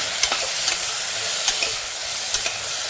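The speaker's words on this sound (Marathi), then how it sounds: "व्यवस्थित आपण ते परतून घेतो" Vegetables with turmeric sizzling and frying in a pan while being stirred, a steady hiss broken by a few sharp scraping knocks of the spoon.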